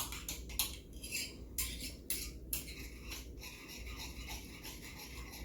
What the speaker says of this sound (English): Let's stir this up a little bit.